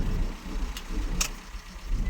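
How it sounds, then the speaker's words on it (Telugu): Cars pass along a road near a hilly mining area, their steady low engine and tyre rumble moderately close, with a couple of brief sharp noises cutting through. "కలెక్టర్ గారు కార్లు అన్నీ ఎటుబడి వెళ్తున్నాయి చూడండి"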